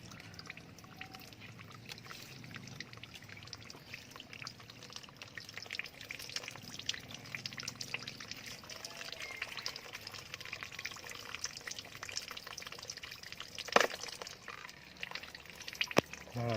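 Rice-washing water is poured onto orchid plants, giving a soft, continuous trickle and splash that stays fairly faint, with a couple of sharp clicks near the end.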